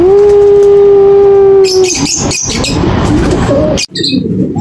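A steady tone holds for about two seconds, then flapping and fluttering bursts follow as racing pigeons land close by, with a brief sharp click near the end.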